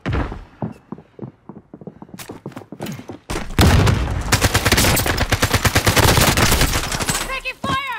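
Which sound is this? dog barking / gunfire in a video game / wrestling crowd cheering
gunfire in a video game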